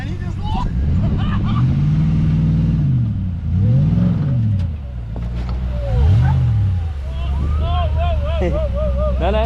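A 4x4 drives on beach sand among dunes, its engine droning loudly and revving up and down in repeated surges while wind buffets the microphone and people talk over the noise.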